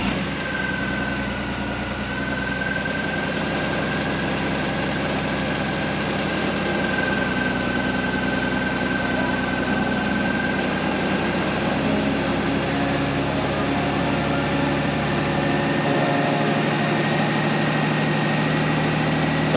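A Honda GoldWing GL1800 motorcycle idles steadily in a garage after a cold-weather start, a smooth, continuous engine hum with a faint whine, heard close and unchanging for about twenty seconds.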